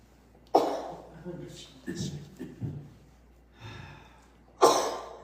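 A person in a room sneezes, a sharp loud burst near the end, after earlier breathy sounds and soft talk.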